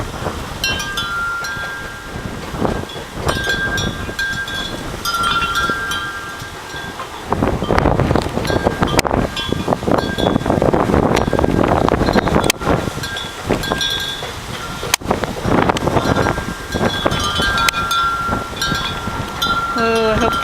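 Wind buffets a microphone outdoors in gusty rumbling bursts that grow stronger partway through, with faint rustling and clinks underneath.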